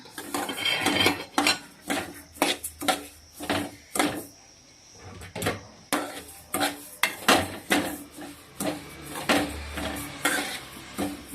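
Metal utensil scrapes and clatters repeatedly against a pan of roasting sesame seeds in an irregular stirring rhythm, close by, with a faint sizzle underneath.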